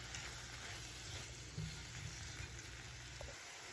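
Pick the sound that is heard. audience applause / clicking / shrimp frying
shrimp frying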